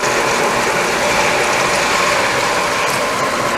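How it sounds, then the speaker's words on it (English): Pool pump with its side vacuum port opened fully, pulling air: a loud, steady, close mechanical churning and rattling drone that runs unbroken throughout, with no talking. "You see that the pump will start to suck air."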